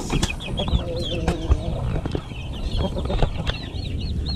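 Japanese Dumpo Shamo chickens cluck and call steadily in a pen made of bamboo and screen, several birds sounding close over a constant background hum.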